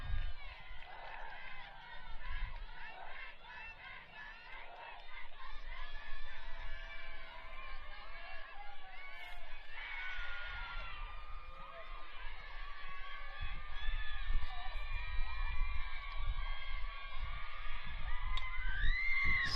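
The Bear River softball bench cheers on a batter during a 4A championship game, with girls' shouts and chants carrying at a moderate distance. A commentator talks over the steady, lively crowd noise.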